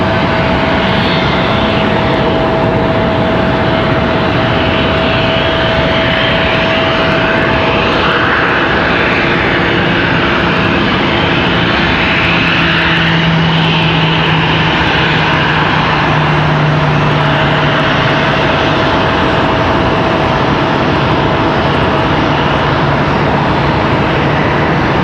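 Lufthansa airliner passing at Charlotte Douglas airport, a loud steady engine roar that holds and slowly shifts for the full stretch, heard from fairly close with no talk over it.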